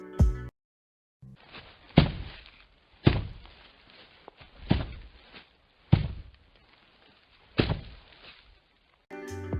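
Heavy, slow footsteps of Springtrap in Five Nights at Freddy's 3 land one at a time as dull thuds, about six evenly spaced steps, each trailing into faint clatter.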